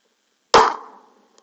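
A single sharp rifle shot from a Chambers Custom rifle, fired outdoors in cold conditions, cracks loudly and close, then trails off in a decaying echo over about half a second, with no talk.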